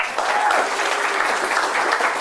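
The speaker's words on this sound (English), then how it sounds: "Give them a nice round of applause." Stage show audience giving a round of applause for volunteers at a mind reader's performance, a loud, dense and even wash of clapping throughout.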